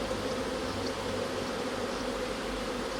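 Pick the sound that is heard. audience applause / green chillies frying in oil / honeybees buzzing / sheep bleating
honeybees buzzing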